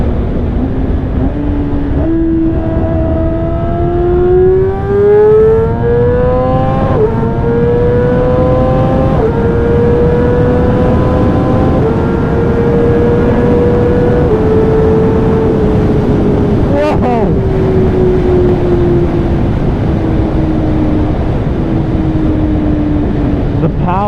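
Yamaha R6 motorbike engine on a road ride, loud and close, rising steeply in pitch through several gear changes and then holding a high, steady whine before easing down slightly, with wind noise throughout.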